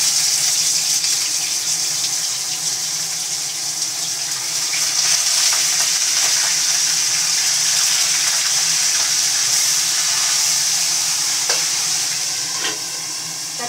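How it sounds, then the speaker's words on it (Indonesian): Fish frying in a pan of oil, a steady crackling sizzle with stirring, close and continuous throughout with no talk. "Ini ikannya mau digoreng ini ya."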